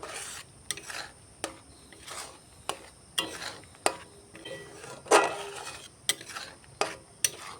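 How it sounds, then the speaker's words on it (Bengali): Chhana (cottage cheese) stirred in a pan as it dries for sandesh, a spoon scraping and rubbing against the metal in a steady run of distinct strokes. A faint sizzle sits underneath, and no one speaks. "এটাকে নেড়ে নেড়ে আমি একটু শুকনো ভাব করে নেবো"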